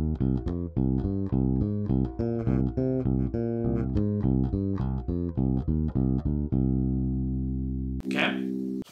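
Bass guitar playing interval exercises on a minor scale, a steady run of plucked notes with deep sustained tones, ending on a held note before a brief noise.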